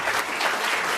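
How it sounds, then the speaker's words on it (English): A brief, steady burst of audience applause for a woman named Meredith at a volunteering event, dense and continuous clapping from a crowd throughout the short moment. "Will you just give Meredith a round of applause"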